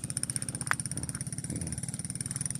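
A single motorcycle runs along a narrow irrigation-side road, its engine a steady, rhythmic mid-pitched putter close by, with a brief sharp click partway through and no speech.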